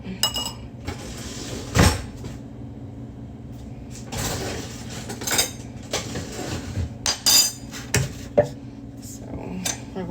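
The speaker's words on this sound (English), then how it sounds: "So now that we have our mixture that was already blended, we are going to now strain it out" A blended herb chlorophyll mixture is strained through a small strainer, heard as clinks and knocks of metal and dishes, scraping, and a few sharper taps over a steady low hum, with no talk.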